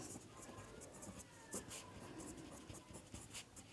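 A pen scratching on paper while a Class 10 maths polynomial question is worked out, a faint, continuous close-up scribbling with small strokes and taps in a quiet room.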